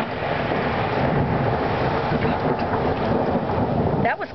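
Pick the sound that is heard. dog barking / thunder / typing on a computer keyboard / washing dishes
thunder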